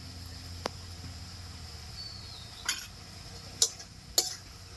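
Spiced vegetables, Malabar spinach and bottle gourd stems, stirred and sautéed in a pan: faint sizzling with a few sharp metallic clinks and scrapes of a spoon against the pan, alone without talk.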